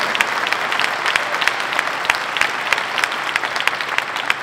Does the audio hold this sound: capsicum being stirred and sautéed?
no